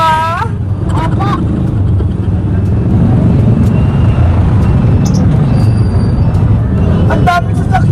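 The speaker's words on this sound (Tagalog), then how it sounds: "Ang daming sasakyan!" Busy road traffic with many cars and buses rumbling steadily nearby, with scattered horn toots and a hiss like an air brake, while people talk over the din.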